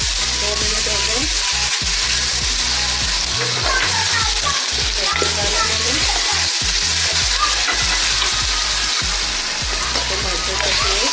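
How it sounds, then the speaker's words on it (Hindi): Onions sauté in hot oil in a home kitchen, a steady, close sizzle and crackle that carries on unbroken throughout, with faint stirring scrapes now and then. "2 मिनट के लिए हम प्याज को सौटे करेंगे।"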